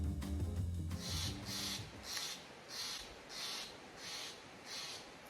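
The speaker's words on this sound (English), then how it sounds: "I like how the bird waits till I start trying to record a video" A crow caws outdoors in the countryside, giving seven or so evenly spaced harsh calls at a moderate distance, following a brief low mechanical hum at the start.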